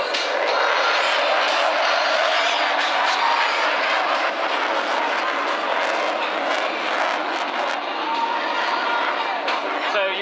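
A loud, roaring jet engine from an RAF Typhoon fighter flying with reheat thunders continuously, a harsh sustained blast with rushing noise that barely shifts in level, with no pauses.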